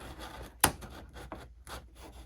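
Scissors snip through paper for a spring nature journal, a few short crisp cuts with one sharper snip, close and alone.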